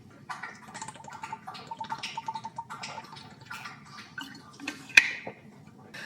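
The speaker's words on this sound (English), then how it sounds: "My dog's drinking water." A dog laps water at close range, a steady run of quick wet clicks and slurps with a brief louder splash near the end.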